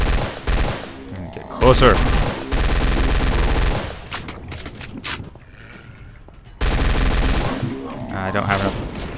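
Gunfire aimed at demons in the video game High Noon Drifter: loud bursts of rapid shots come in several clusters separated by brief lulls, and a voice speaks a single word between them.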